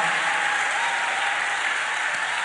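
A church congregation claps in praise of Jehovah during an evening service, steady, sustained applause at moderate level with no break.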